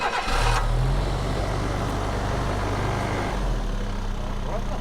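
A Land Rover Discovery engine cranks and catches, then holds high revs on choke as a steady, loud mechanical drone close by, with people talking faintly over it.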